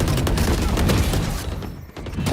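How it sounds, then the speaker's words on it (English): In Valorant, a swarm grenade goes off as a loud rapid cluster of popping blasts and crackling bursts, filling the moment before tapering briefly, then picking up again. "Placing swarm grenade."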